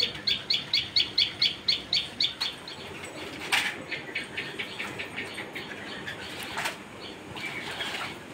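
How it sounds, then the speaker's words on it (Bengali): A bulbul calls from a star fruit tree, giving a rapid run of bright repeated chirps that starts loud and close and then softens into quieter, steadier notes over a faint background hum. "এটা বুলবুলি পাখি।"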